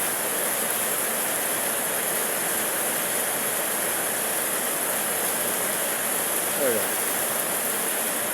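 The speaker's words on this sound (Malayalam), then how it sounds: "നല്ല മഴയാണ്" Heavy rain falls steadily at night, a dense, even broadband hiss that holds at constant loudness throughout, with a brief faint sweep near the end.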